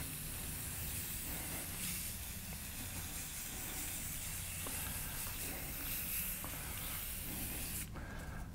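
A spray paint can hisses out smoke gray paint in one steady, close, unbroken jet for several seconds. It cuts off abruptly at the end.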